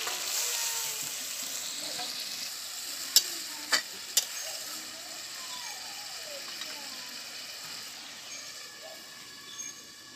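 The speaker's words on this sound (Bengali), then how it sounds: "সেই বাটির ধোয়া জলটা আমি এবার দিয়ে দেব।" Masala frying in oil for a red chicken curry sizzles loudly and steadily, with a few sharp clinks of a spoon or bowl partway through and a fainter, calmer sizzle afterward.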